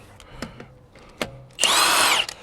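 A power tool turns a 17mm socket to remove car wheel nuts. One loud, close burst of whirring lasts under a second, after a few light clicks and knocks.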